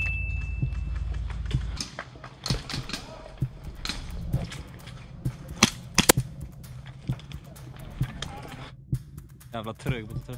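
Airsoft guns fire in scattered sharp cracks and snaps at close and middle range during a Swedish airsoft game outdoors, with rustling and movement between shots and people talking at times.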